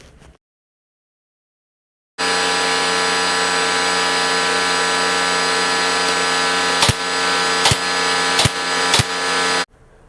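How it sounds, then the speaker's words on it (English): Miter saw cutting 1x2 wood trim: after a short silence the motor starts abruptly into a loud, steady whine, broken near the end by four sharp cuts or clicks, then stops suddenly. "The next thing I'm going to do is jump on my miter saw and cut down some 1x2 to trim out my shelf."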